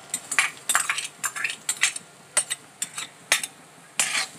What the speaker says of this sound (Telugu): ఆనియన్ బ్రౌన్ కలర్ వచ్చేదాకా అలాగే ఫ్రై చేసుకుంటూ ఉండాలి